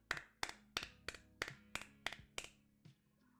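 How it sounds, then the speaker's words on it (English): Quiet hand claps come in a slow, even series of about eight sharp slaps, each one distinct and fairly close, with a brief pause before a final softer clap. "I can't clap too loud because it's a little late"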